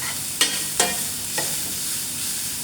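Dried red chillies fry in a pan, a constant bright sizzle broken by a few distinct scrapes as they are stirred, close and fairly loud.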